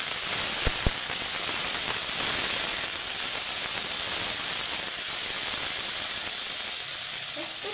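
Yardlong beans fry lightly in a pan with a steady, bright hiss and a couple of sharp pops near the start, close by and continuous with no voices.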